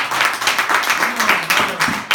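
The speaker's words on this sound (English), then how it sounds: "Let's give another round of applause for everybody, for Johnny and" An audience applauding at a Christmas church service with dense, steady clapping throughout, and a voice faintly audible beneath it.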